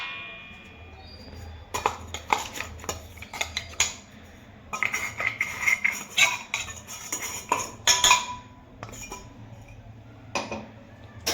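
Batter being mixed in a bowl for homemade dhokla, with a utensil clinking and scraping against the bowl in irregular bursts, fairly close and moderately loud, with no talking.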